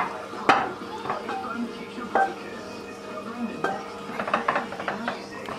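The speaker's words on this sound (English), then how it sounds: "Then I'm going to put the mince on the top again." Cooked mince being spooned over pasta in a baking dish for a pasta bolognaise bake, with a few sharp spoon-on-dish clinks and soft scraping and stirring sounds close by, under low background noise.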